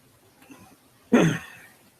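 One short, sharp cough or throat clearing bursts out of near silence and fades quickly.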